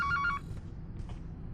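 A telephone rings inside a childcare horror game, a short run of bright electronic ring tones that cuts off after a moment and leaves a low background hum.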